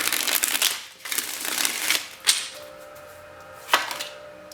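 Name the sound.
shuffling tarot cards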